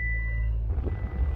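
Reversing beeps from a new car, a steady high electronic tone over a low engine rumble, fading partway through as the car starts rolling backward and road noise takes over.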